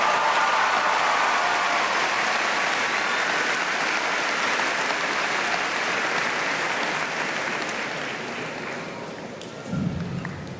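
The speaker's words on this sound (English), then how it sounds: "How about a round of applause for the teachers here today?" A large crowd at a school commencement ceremony applauds the teachers with sustained, dense clapping that slowly tapers off near the end, followed by a brief thump.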